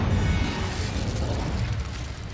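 A fire spell cast in Hogwarts Legacy lets out a loud, rumbling whoosh and burst at the start, then a roaring crackle that fades slightly over two seconds.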